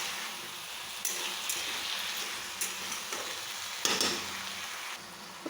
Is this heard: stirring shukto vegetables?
yes